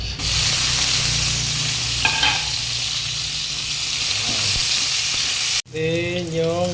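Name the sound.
garlic and onion frying in oil for pork biryani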